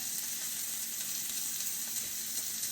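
Beef pieces for a hearty stew sear in a pan, giving an even, steady hiss of hot fat that stays constant and fairly quiet throughout.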